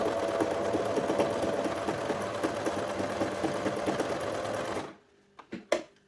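A sewing machine stitches in a fast, steady mechanical whir for about five seconds, then stops, followed by a few short clicks and knocks as the machine is handled.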